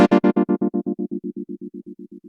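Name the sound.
square-wave tremolo effect, Strymon Mobius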